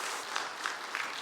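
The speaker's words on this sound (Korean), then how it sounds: "하나님께 영광의 박수를 올려드렸으면 좋겠습니다." Faint, distant applause from a church congregation during a Korean Sunday afternoon service, a soft steady patter with a few louder claps standing out.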